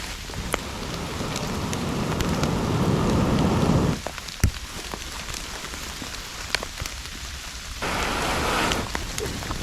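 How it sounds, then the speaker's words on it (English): Heavy rain pours onto a tiny inflatable tent at a solo campsite, loud and dense, breaking off abruptly midway and resuming later, with sharp raindrop taps and faint distant thunder. "And the rain's getting heavier"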